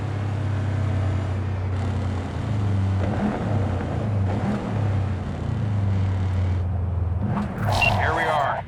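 A car engine in Cyberpunk 2077 idles with a steady low hum, then cuts out near the end as a brief rustling sound rises, while voices talk throughout.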